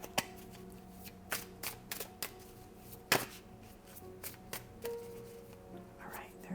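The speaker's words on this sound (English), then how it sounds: "aggressive shuffling" Tarot cards are shuffled aggressively in quick, irregular riffs and snaps, close and fairly quiet, with occasional sharper slaps and a soft voice now and then.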